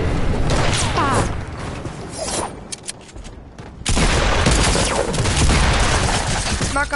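Submachine gun fire in a video game shooter rattles in loud rapid bursts, cutting out briefly mid-clip before another dense volley resumes, with crashing impacts mixed in.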